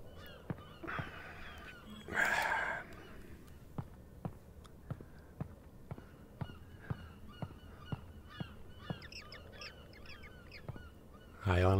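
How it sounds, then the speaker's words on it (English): Birds call repeatedly with short, regular chirps spaced about a second apart, plus a louder honking call early on, over a quiet background, in a Half-Life: Alyx VR custom map. "I only hear the birds."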